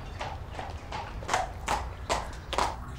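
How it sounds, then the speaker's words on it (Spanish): Horse hooves clip-clop at a steady walking pace, sharp rhythmic knocks over a low background rumble. "Aidar, toma el caballo."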